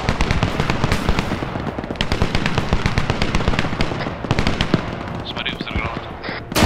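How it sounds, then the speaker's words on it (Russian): Grenades explode during an ArmA 3 battle, a dense barrage of sharp cracks and booms piling up close and loud without letup. "Смотри, взрыв гранат."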